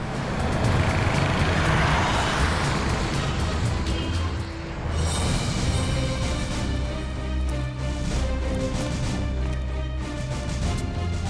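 A car being driven on the road produces a continuous engine and tyre rumble with passing traffic noise, steady and fairly close throughout, with no talking.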